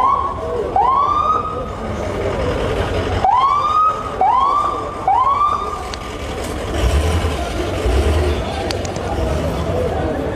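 An ambulance siren whoops in a series of rising wails at a street scene in Tangier on New Year's Eve after a fire at a shisha café, amid crowd noise and engine rumble, with people talking nearby.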